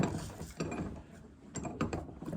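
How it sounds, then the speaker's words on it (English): A bench vise being tightened on a small boat drain plug adapter cushioned in a koozie: close, short bursts of mechanical clicking and creaking with brief pauses between turns. "let's get it in the vise. Don't want to over tighten it."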